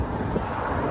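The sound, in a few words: strong wind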